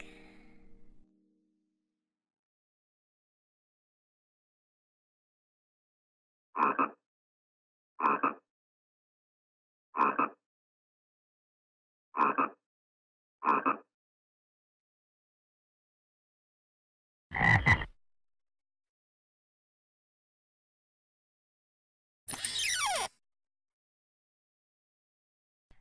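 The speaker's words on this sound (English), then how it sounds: "Frog." A frog croaks in a children's animal learning show: five short, evenly spaced croaks, then two longer, harsher bursts, each clear and close against silence.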